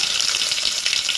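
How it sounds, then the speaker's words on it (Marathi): Mustard seeds spluttering in hot oil alongside cumin and garlic, a dense, steady hiss with fine rapid crackles throughout, close and fairly loud, no voices. "मोहरी आपली तडतडत आलेली आहे"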